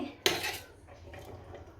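Salted boiled peanuts in their shells are scooped into a metal kitchen vessel: one sharp metallic clank followed by quieter scraping and rattling, all faint and close.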